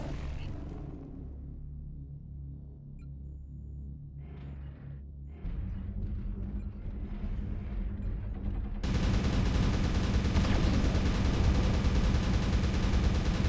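Mechwarrior Online battle sounds: scattered weapon fire and distant rumbling blasts build up before a sudden dense, loud wall of explosions and gunfire takes over for the last few seconds, with no talk.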